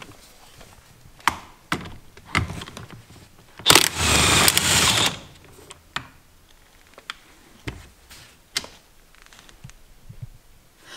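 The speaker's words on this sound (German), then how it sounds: "die schraubt man mit einer 16er Nuss raus." Socket wrench turning out the steering wheel bolt with a 16 mm socket on a BMW E36, sharp ratchet clicks and taps with a brief burst of rapid ratcheting in the middle, close and fairly quiet.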